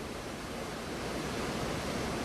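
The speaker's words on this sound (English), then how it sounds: "so you will understand the size of these waves" Ocean surf at Bathsheba, a steady broad roar of breaking waves heard from a distance, soft and continuous with a slight swell in level toward the end.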